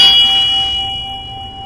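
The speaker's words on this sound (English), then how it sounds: "we can use a beautiful bell to do that. You just ring it gently and you can hear it." A single bell struck once, its clear ringing tone sustaining and slowly fading away.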